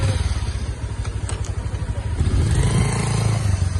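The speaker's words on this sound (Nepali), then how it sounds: "हाम्रो यहाँ बाइक राइड हानिरहेछन्" A motorcycle engine drones steadily up close as the bike rides along, with a slight rise in revs toward the end.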